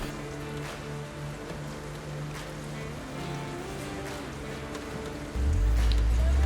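Steady, dense rain hissing and pattering without a break, heard during a 4x4 off-road drive in the UK, with a low droning hum underneath and a louder rumble swelling in near the end.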